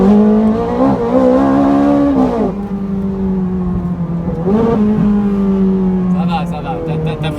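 A racing game car revs and accelerates hard up a long hill, its engine note climbing in steady pitched sweeps and dipping between shifts, loud and continuous throughout, with a tire squeal near the end.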